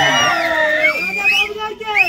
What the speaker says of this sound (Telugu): ఈ అరుపులు, కేకలు